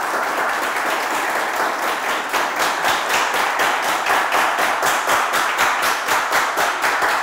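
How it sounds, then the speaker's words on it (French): Game show studio audience applauding, a dense, steady round of clapping that grows into a rhythmic, evenly spaced beat, loud and close with no talk over it. "Merci de les applaudir."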